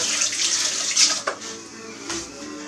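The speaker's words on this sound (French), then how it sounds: "Je me rince un peu." Hands rinsed under a running kitchen tap, a close, splashing water flow for a couple of seconds with small shifts as the hands move through the stream.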